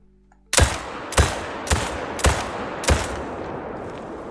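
Five rifle shots from a new rapid-hunt rifle in theHunter: Call of the Wild, fired at a steady pace about half a second apart, each a loud sharp crack with a rolling tail, no talking.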